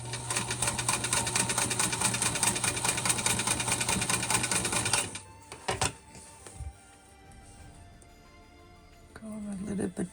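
A sewing machine stitches fabric scraps in a fast, steady whirring run for about five seconds, then stops, followed by a few soft clicks and handling noises.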